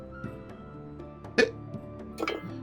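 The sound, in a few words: imitated hiccup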